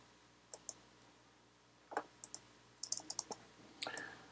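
Sharp computer mouse clicks while shaping a heart box design, single and paired taps scattered over a few seconds, close and crisp in a quiet room.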